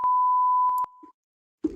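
A beep sound-effect machine lets out a steady, clear electronic tone lasting most of a second, then clicks off with a couple of brief taps, followed by a moment of silence and a brief voice.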